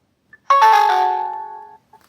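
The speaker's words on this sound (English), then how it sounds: "Okay, we got it blinking there and it's chiming." A Birdsnap hummingbird feeder gives a single bright electronic chime during setup, a clean doorbell-like tone that rings for about a second and fades, with a faint click before and after it.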